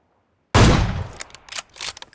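Gunfire in a solo-versus-squad video game shooter: one loud, close blast that rings out and decays, followed by several lighter, scattered shots.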